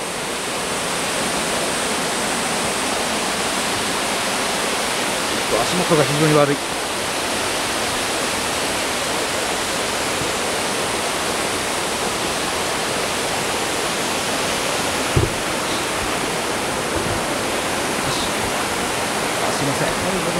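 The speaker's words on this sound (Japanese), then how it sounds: "滝の音が聞こえます。" Roaring waterfall at Kawazu Seven Falls in Izu: a dense, constant rush of falling water close by, with someone briefly speaking over it.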